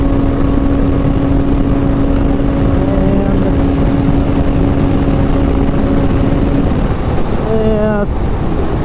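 Polaris Rush Pro R 600 snowmobile engine running steadily during a test run, a loud continuous roar with a faint whine that rises near the end.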